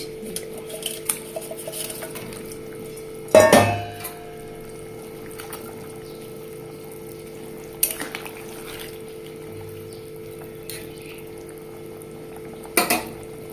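Fish pieces go into a simmering curry of radish and potato. A clattering splash against the pot stands out near the start, followed by scattered utensil clinks over a low, quiet bubbling.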